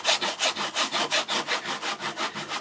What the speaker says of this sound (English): So we just go to town, sawing down to our depth.